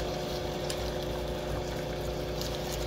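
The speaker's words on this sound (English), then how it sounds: "I'm just going to tip a little bit more hot water on it and just put it over the top of it." Hot water pours steadily over oxtail in a cooking pot, a continuous rushing, gurgling flow at close range with no talk.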